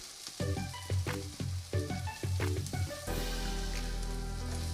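Drumstick flowers hit hot ghee in a pan and crackle into a steady, close sizzle that swells louder after a few seconds, with a pitched musical tone running underneath at first.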